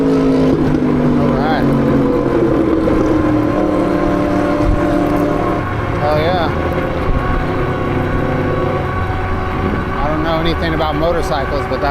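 A motorcycle passing on the road during an evening commute, its engine note climbing and falling as it goes by, with other traffic droning and people talking over it.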